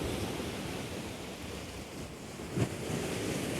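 Sea water surging and washing over a storm-damaged seaside promenade in Tece, Mersin, Turkey, a steady broadband rush of surf and wind with one brief louder splash near the end, no voices.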